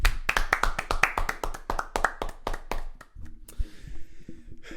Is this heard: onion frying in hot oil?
no